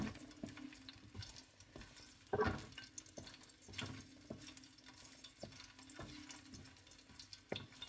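Garlic fries in oil in a pan, a faint, soft sizzle punctuated by irregular light taps and scrapes of stirring, with no talking.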